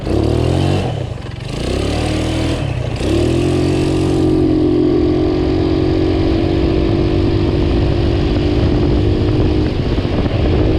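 A stunt scooter's small engine with a knocking crankshaft, tapping valves and a whining variator, revving in short blips then holding a loud, steady droning whine close to the microphone.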